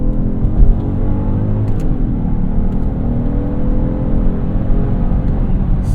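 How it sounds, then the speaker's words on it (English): A 2025 Genesis GV80 engine revs hard as the paddle shifters drop it from third into second gear, giving a loud, steady, close-miked rumbling whir that lasts several seconds with no talk. "Engine sounds good as well. Love how it leaves you high in the revs."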